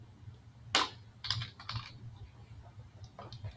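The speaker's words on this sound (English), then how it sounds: "Or you can begin typing in a portion of your name" Scattered keystrokes on a computer keyboard, a few quick bursts of clicks with pauses between, quiet and close.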